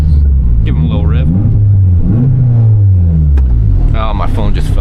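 Turbocharged Mazda Miata on a cruise, engine revving loudly in repeated rising pulls with deep rumbling, close and continuous, while people talk over it.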